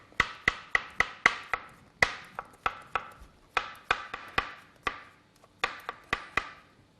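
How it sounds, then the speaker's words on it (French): A knife slices a mushroom into thin pieces on a board, a quick run of crisp, close taps falling in uneven rhythmic bursts with short pauses between. "Donc je coupe mon champignon."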